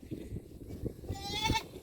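A goat bleats once, clear and fairly close, over the low bustle of a small herd of goats and a buckling being separated from a nanny at a farm pen.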